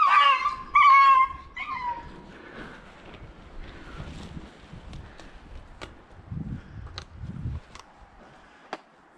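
A fox-hunting dog working at an earth den gives a few sharp barks and a high whine at the start, then goes quiet and distant under faint wind and scattered clicks and thumps.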